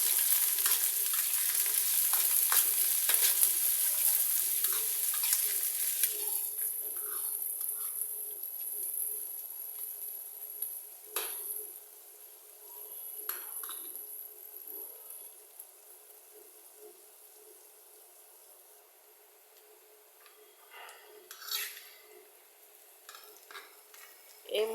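Onion frying in a pan while cooking banana flower: a bright, dense sizzle opens loud and close, then settles into a quieter hiss with scattered pops and occasional stirring scrapes, with no voices.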